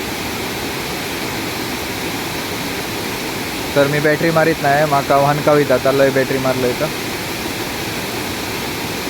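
Water pours down Savdav waterfall at night, a constant broadband roar that fills the whole scene while someone talks briefly over it in the middle.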